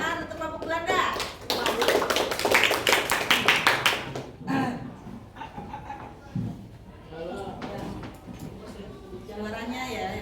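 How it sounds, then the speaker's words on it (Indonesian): Classmates clap rapidly and loudly for the Belanda group at the front of the class, a dense burst that fades into voices, laughter and scattered taps from the room. "Tepuk tangan untuk kelompok Belanda."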